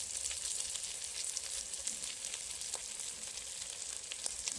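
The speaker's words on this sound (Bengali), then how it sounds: "এটাকে ভালোভাবে কষিয়ে দিই।" Turmeric and chili powder spices sizzling and frying in a pan for a river fish curry, a steady close hiss with faint scraping stirs and no talking.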